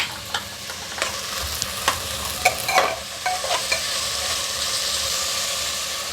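Onion, potato and chickpeas fry in a mustard-seed tempering, a steady sizzle with several sharp clicks and scrapes as the pan is stirred up close.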